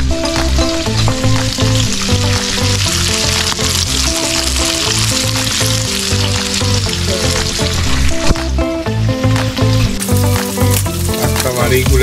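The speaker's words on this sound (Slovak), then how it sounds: "Tak sa varí guľaštík je od včera." Goulash cooking in a pot at a summer fishing holiday by a lake, a steady crackling sizzle mixed with clinking and music-like tonal layers running throughout at moderate loudness, no talk.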